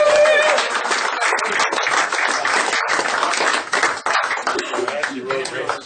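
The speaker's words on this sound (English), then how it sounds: "please let's give a big round of applause for Pat Oates, everybody." A crowd at a comedy roast breaks into loud, sustained applause, dense clapping that holds steady for several seconds before thinning slightly at the end.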